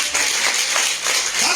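A church congregation applauds, a short steady patter of many hands clapping together in a hall, fairly loud and close, without speech over it.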